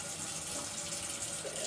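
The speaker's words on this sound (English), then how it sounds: "Hot water going." Hot water runs from a tap in a steady, even stream while a HomeRight Finish Max paint sprayer is rinsed. The hiss is close and continuous, with no voices over it.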